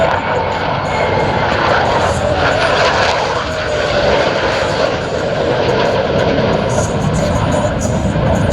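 U.S. Navy Blue Angels jets roar past at an air show in Columbus, a loud continuous jet engine rush that fills the scene from start to finish with no break.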